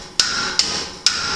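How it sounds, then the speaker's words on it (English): A hammer taps a rod down onto a seized heating element, giving three sharp metallic knocks at uneven intervals over a steady background hum, close and distinct. "we're going to take a rod and a hammer and we're going to put it in there, and we're just going to tap down on this heating element very gently"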